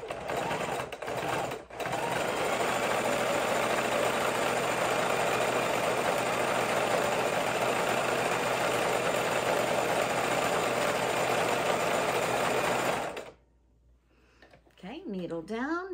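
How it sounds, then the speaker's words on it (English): Singer Heavy Duty sewing machine running a steady stitch through leather, a loud continuous mechanical whir for about thirteen seconds with a brief pause near the start, then stopping as a voice speaks. "S2 on the Singer Heavy Duty and see if I can do a fancy stitch on leather"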